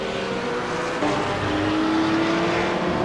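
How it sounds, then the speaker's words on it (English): A GT2 race car engine drones steadily at high revs with a rising whine, heard over continuous loud track noise without talking. "Geez, I love the sound of that GT2 car."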